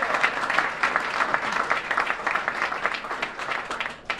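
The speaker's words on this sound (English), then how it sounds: "Let's give him another round of applause." A crowd at a Latino Leaders Network event honoring a mayor gives him a round of applause, steady rhythmic clapping of moderate loudness that carries on for about four seconds before easing off.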